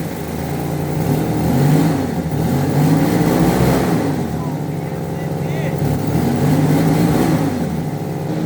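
A 1966 Dodge Dart engine fitted with new spark plugs and plug wires revs steadily and loudly, its throaty mid-range note rising and falling in repeated swells, with people talking over it.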